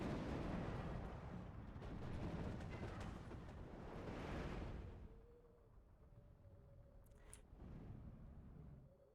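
Artillery bombardment in the Steel Division II war game: a heavy, continuous rumble of distant shell impacts swells and fades for several seconds, then gives way to quieter battlefield ambience with a brief sharp crack near the end.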